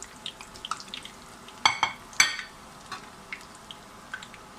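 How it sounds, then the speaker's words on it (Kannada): Cheese balls deep-frying in hot oil over high heat, a faint bubbling sizzle broken by a few sharp metallic clinks of a utensil against the pan. "ಗೋಲ್ಡನ್ ಕಲರ್ ಬರೋ ತನಕ ನಾವು ಫ್ರೈ ಮಾಡ್ಕೋಬೇಕು ನೋಡಿ."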